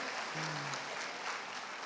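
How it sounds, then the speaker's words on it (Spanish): A church congregation at a Sunday service applauds: a continuous, even wash of many hands clapping together, moderately loud and steady for the whole stretch. "dale un aplauso al que está a tu lado"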